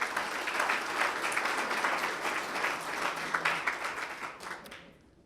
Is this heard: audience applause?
yes